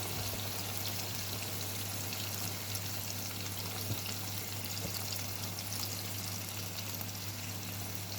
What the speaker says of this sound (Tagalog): Lagay na natin yung cooking cream.